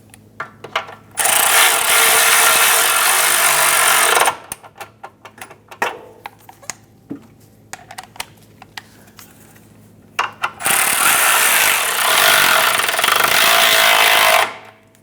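On a 2008-2013 Nissan Rogue, subframe bushing nuts are run down with an impact or power ratchet in two loud, sustained buzzing bursts, separated by quieter clicks and tool handling.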